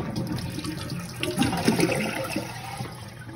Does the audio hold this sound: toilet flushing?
yes